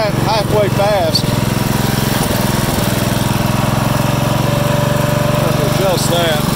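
Refurbished Murray riding lawn mower engine idles at a moderately fast speed, a loud, steady, close buzzing drone, with a person speaking briefly over it.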